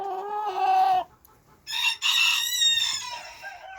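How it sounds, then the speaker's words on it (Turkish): A rooster crows loudly and close by, a long harmonic call that breaks off, then a second crow follows after a brief pause. "Şimdi burada dostlar bakın şu horoz"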